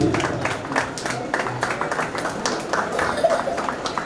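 Scattered applause from an audience at a felicitation ceremony for a young Bharatanatyam dancer, several seconds of uneven clapping over a murmuring crowd.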